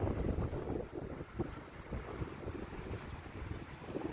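Outdoor wind blusters against the microphone in a steady low rumble with gusty swells, filling the scene without any voices.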